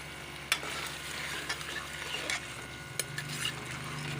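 Chicken liver, half a kilo, is stir-fried with browned spices in a pan, a close steady sizzle broken by a few sharp utensil scrapes and taps against the pan.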